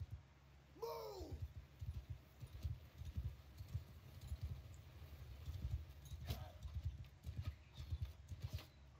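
Cavalry horses in Mount & Blade II: Bannerlord clip-clop steadily in a continuous hoofbeat rhythm, with a whinny near the start and jangling tack over a low rumble.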